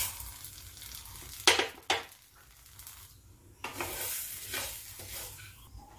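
Moong dal dry-roasting in a pan, with scraping stirs and light rustling of the lentils against the metal, two sharp scrapes early then softer stirring strokes, close and fairly quiet.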